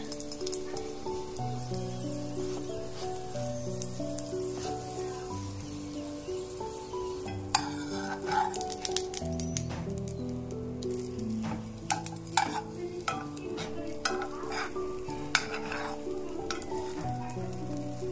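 A chicken parota bun cooks in a pan over a low flame with a soft, steady sizzle. Occasional sharper clicks and squishes from turning or pressing the bun sound under quiet background music.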